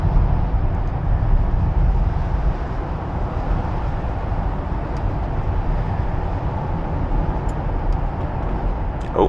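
A BMW E36 318i Cabriolet with 115 hp on the road, a steady low engine drone mixed with wind and tyre rumble from inside the car, holding at a constant level.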